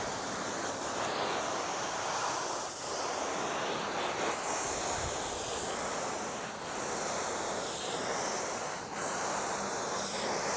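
A garden hose on a low-pressure shower setting sprays water to rinse snow foam off a Jaguar XK8, a close, steady hiss broken by brief dips as the spray moves.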